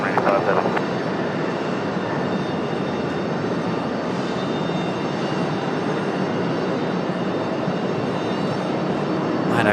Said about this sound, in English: Again, our 32-year-old A300 arriving from Memphis.